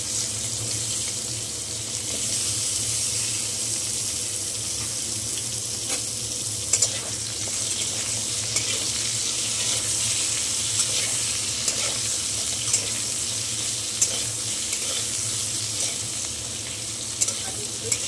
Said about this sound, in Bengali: তেলটা একটু কমিয়ে নিয়েছে, এবারে আলুগুলো ছেড়ে দিচ্ছি।